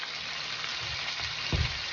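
Shrimp and chicken stir fry sizzling in a wok over high heat, a steady broadband hiss with a brief louder burst of crackle near the end, no voices.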